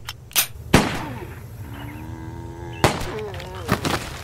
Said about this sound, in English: Oh crap, it's a zombie. Let's shoot him.